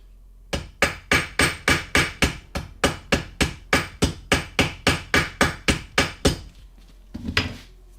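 Steady hammer blows on rivets being set into leather armor, about eighteen sharp evenly spaced strikes close by, loud and alone, followed by a brief softer knock at the end.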